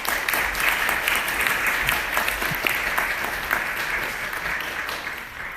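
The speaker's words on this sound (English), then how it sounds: "Let's give them another round of applause" An audience applauds panel members after a talk on cultural appropriation, a broad, sustained patter of many hands clapping together, steady and fairly loud before gradually thinning slightly toward the end, with no voices.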